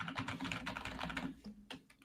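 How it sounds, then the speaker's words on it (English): Rapid clacking from a clicky, typewriter-like light-up computer keyboard, a steady burst of close keystrokes with no voices. "No, this is my keyboard right here."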